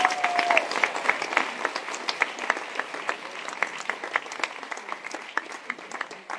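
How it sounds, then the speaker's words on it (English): Audience applause at a tech meetup talk event in Trento, a dense steady patter of many hands clapping, moderately loud and continuous. "So another big applause for you."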